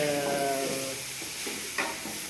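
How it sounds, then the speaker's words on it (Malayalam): Tapioca and spice masala stirred in a pan, with a steady close sizzle and scraping strokes that are fairly loud and heard alone without talk. "ഇളക്കി കൊടുക്കാം."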